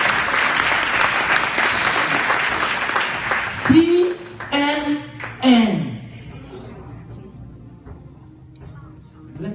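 A church congregation claps and cheers loudly at first, then the clapping breaks up into scattered bursts as a voice speaks over organ or keyboard notes, trailing off to quieter crowd sound.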